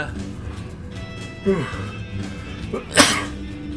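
A commentator sneezes during a StarCraft II match broadcast, one sharp close burst near the end, following a throat sound and set against quiet game audio with speech around it.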